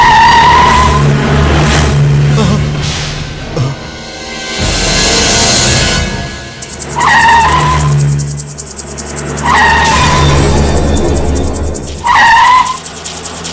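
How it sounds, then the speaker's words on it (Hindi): A car speeds off with loud engine revs and repeated squealing tire skids, several sharp screeches rising and falling over a roaring motor in a tense chase. "गाड़ी निकाल।"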